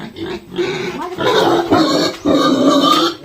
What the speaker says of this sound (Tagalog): Nakabuhi ag baboy.